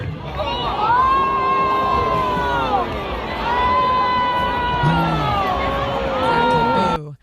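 A stadium crowd reacts loudly at a college football game after a band announcer's remark, a sustained wash of cheering, shouting and babble with whoops, lasting about seven seconds before cutting off.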